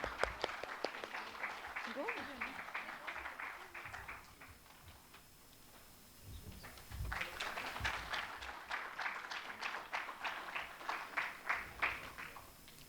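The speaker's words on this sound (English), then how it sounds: "Everyone, a big round of applause for Prashant Jain and this amazing presentation." Applause from a conference audience after an investment presentation, a few seconds of brisk clapping that thins into a quiet gap, then swells again with individual claps audible and a voice over the top.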